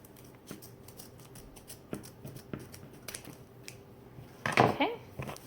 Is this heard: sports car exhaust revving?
no